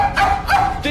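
A dog gives a few short yipping barks, close and fairly loud, in quick succession with brief gaps between them.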